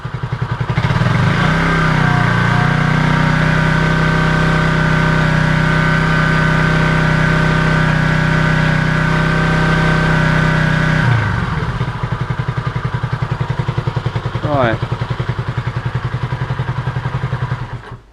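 A Honda CB250RS motorcycle engine runs steadily at about 4,000 rpm, loud and close, then the pitch drops to a lower, rougher idle with some clatter.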